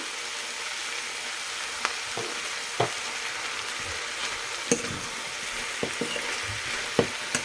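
Three medium tomatoes are stirred into a hot frying pan for an aloo soya chunk curry. They give a steady close sizzle, punctuated by sharp scraping clicks of the spoon at irregular intervals.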